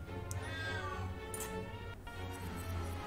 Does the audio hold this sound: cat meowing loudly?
yes